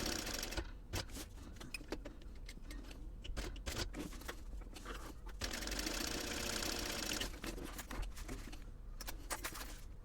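A sewing machine stitches a line to divide a purse's slip pocket in two, a close, busy mechanical whir with rapid ticking needle strikes and a couple of brief pauses.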